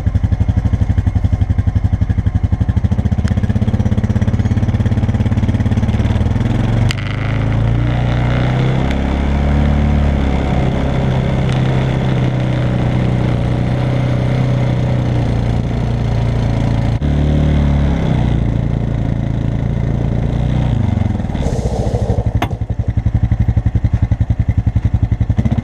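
A 1991 Honda TRX 250X quad engine is roll-started and runs, a loud, close, steady mid-pitched engine drone with uneven throttle changes and a few brief dips throughout.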